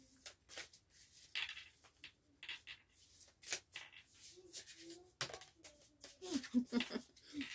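A deck of cards shuffled for a card reading, a series of soft irregular riffling and flicking bursts, close and quiet, with a voice briefly murmuring in between.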